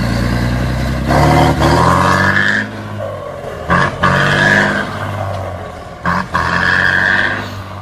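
A Scania 124 G truck engine in The Road Driver video game roars loudly, rising and falling with revs as gears change, with brief drops between pulls.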